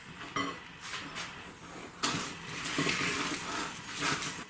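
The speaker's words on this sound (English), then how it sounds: "Now sieve in your flour mixture. Give that a stir around." A spoon clinks and scrapes against a bowl while stirring sieved flour mixture into liquid, making close, uneven rubbing and light chinking strokes in a few bursts.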